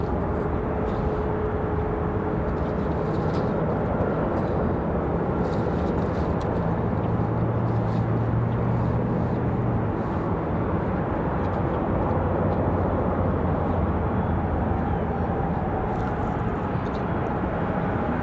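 An Endeavor regional airliner departing Raleigh-Durham International for JFK, its steady broadband jet roar filling the scene continuously at moderate distance, with a faint low engine tone rising underneath partway through.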